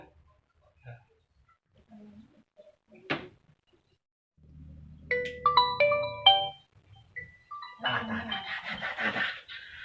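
A phone rings with a bright, melodic ringtone of stepped electronic tones in short bursts, preceded by scattered knocks and clatter in a quiet room, with people talking nearby.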